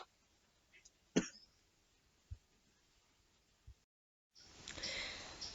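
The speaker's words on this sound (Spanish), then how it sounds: "me da la tos cuando hace mucho frío" A single person coughs sharply in a quiet room, followed by a couple of faint throat noises, then a burst of soft broadband noise near the end.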